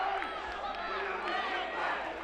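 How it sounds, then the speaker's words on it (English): Spectators at a high school wrestling match cheering and shouting in a steady roar as the bout nears its end, with a commentator talking over it. "The crowd is feeling it now."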